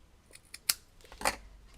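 Scissors snip through ribbon while a card is being made, giving a few quiet cuts and then one louder crisp snip, close up and alone with no talk.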